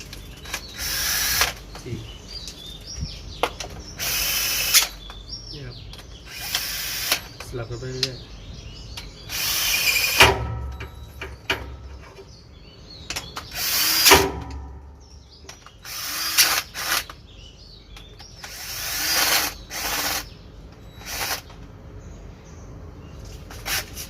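A ratchet wrench working on the valve adjusters of a Hino J08E truck engine, with bursts of quick ratcheting clicks separated by short pauses, up close in a workshop.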